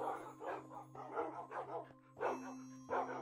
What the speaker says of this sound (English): all the dogs barking doesn't help.